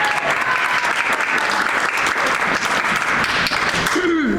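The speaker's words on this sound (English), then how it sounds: "I want to give her a big round of applause." A seated audience at a spoken-word and dance performance claps in a dense, sustained round of applause, loud and even throughout, with a brief voice surfacing near the end.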